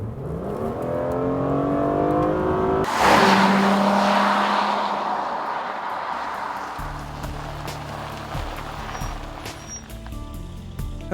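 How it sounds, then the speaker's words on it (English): A Mercedes SL350 convertible with its V6 engine accelerating, revs climbing through gears with a sharp shift, then settling into a steady cruising drone; loud and close with no talk. "V6 engine in this SL350 is quick enough"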